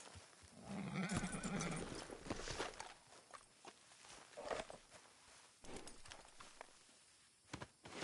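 Horse sounds in the video game Red Dead Redemption 2: hoof steps clopping along with a snort or whinny, faint and close, with scattered rustles and small knocks.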